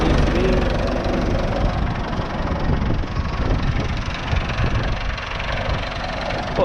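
A Massey Ferguson 390T tractor, carrying front weights, idles close by with a steady, low, rumbling engine note and a slight knock, holding an even level throughout.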